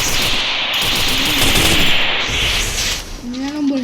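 Rapid gunfire from a shooting video game, loud dense bursts of shots over game noise, with a voice talking over it.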